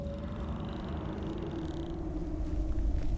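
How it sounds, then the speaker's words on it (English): A shellbug creature in Skyrim purrs with a low, steady rumbling drone that continues without a break, close and moderately loud, with no voices over it. "I hear him purring."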